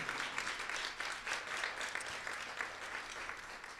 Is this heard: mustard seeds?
no